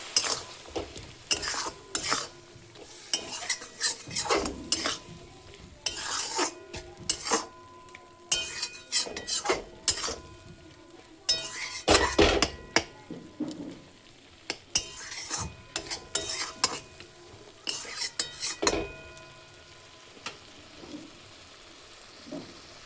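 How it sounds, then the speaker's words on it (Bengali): Spice paste with added water sizzles in a pan for a lotta fish curry, stirred with frequent clattering scrapes and knocks of a spoon against the pan, close and uneven, without talking. "জলটা দেওয়ার পর এটাকে ভালো করে আবারও একটু কষিয়ে নেবো"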